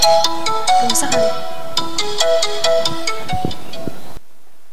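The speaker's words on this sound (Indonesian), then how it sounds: "Nanda nelpon lagi. Angkat jangan ya" A loud electronic phone ringtone plays a bright, repeating melody up close, then cuts off abruptly near the end.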